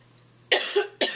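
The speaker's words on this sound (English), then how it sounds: "Had a little coughing fit." Two sharp, close coughs in quick succession from a single person during a coughing fit, the first harsher and longer with a brief catch between, against a quiet room.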